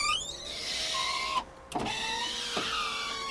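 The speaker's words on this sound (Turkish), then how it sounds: "Ondan sonra camımızın düğmesi burada." The electric power window of a Mitsubishi Safir bus whirs in a steady motor drone, stops with a thud, then runs again with a couple of soft clicks, fairly quiet and close.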